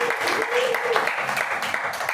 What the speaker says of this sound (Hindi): इनके लिए फिर जोरदार ताली हो जाए